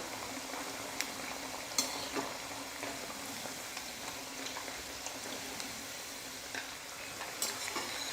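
Carrot vadas frying in hot oil give a soft, steady bubbling sizzle with a few sharp clinks and scrapes as they are turned over, fairly quiet throughout and free of speech.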